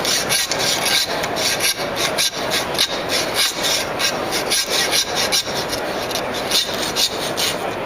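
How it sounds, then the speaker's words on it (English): A hand saw cuts through pork rib bones in a scribe cut, rasping back-and-forth strokes at a steady rhythm, close and fairly loud, with no talking. "I'm just going to cut right through the rib bones."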